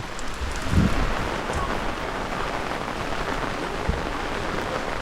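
Heavy rain pours down steadily during a strong storm in a rural village, a dense, continuous hiss of drops on surfaces with a couple of low thuds.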